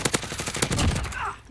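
Rapid gunfire in a video game rattles out as a quick burst of loud, close shots, then trails into a rumbling echo.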